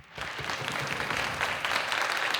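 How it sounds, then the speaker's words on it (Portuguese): Audience applause at a human rights event, a warm burst of many hands clapping that starts abruptly and holds steady and full for a couple of seconds. "Uma farta salva de palmas,"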